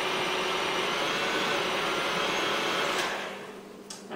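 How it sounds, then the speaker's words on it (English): An electric mixer blending runny carrot cake batter, a loud steady close whir that holds for about three seconds and then drops away as it is switched down, leaving faint clatter. "we'll go ahead and turn up the mixer a little bit to get everything nice and blended"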